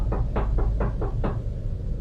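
Six sharp knocks on an apartment door in quick, slightly uneven succession over a low steady hum, close and fairly loud, with no voices.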